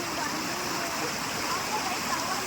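A waterfall swollen by heavy rain roars with a constant heavy rush of water, loud and unbroken throughout.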